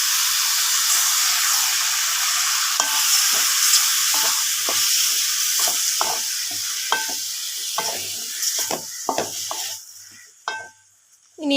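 Cleaned squid sizzles in a hot pan with sautéed onions, a loud steady hiss broken by repeated scraping stirs, close up, with no talk.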